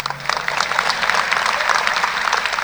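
A graduation ceremony audience applauding, dense steady clapping from a large crowd filling the whole stretch, loud and continuous without a break.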